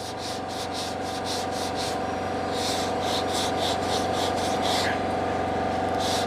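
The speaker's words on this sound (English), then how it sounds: "I'm just letting the sandpaper do the work." Sandpaper rubs steadily back and forth over body filler on a flexible car fender, a close, even rasping in rhythmic strokes with no talking.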